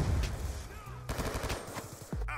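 M27 assault rifle firing in Call of Duty: Black Ops 2, a run of rapid automatic gunshots with game sound effects, loud and close over a short span.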